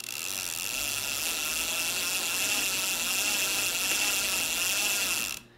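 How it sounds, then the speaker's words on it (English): A bicycle chain being backspun through a clump of t-shirt cloth to wipe off grime, giving a continuous close whirring, ratcheting hiss of the freewheel that runs steadily and then stops abruptly. "I just take that little clump of t-shirt, and I just backspin the chain"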